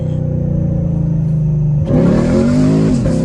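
A straight-piped Camaro SS engine idles with a deep burbling drone, then roars up in a loud rev as the tires spin, its pitch climbing and holding close and alone.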